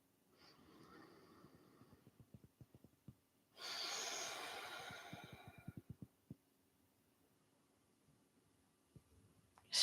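Slow, relaxed breathing of a person lying quietly during a yoga cooldown, with soft close breaths and one longer, louder exhale in the middle, against faint background noise.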